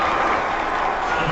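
Stadium crowd noise at a Texans at Broncos NFL football game in 2012, a steady, broad roar of distant applause and cheering with no clear breaks.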